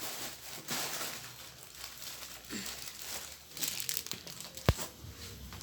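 Plastic crumpled and crinkled by hand close up, with irregular rustling throughout and a sharper crackle near the end, no talking.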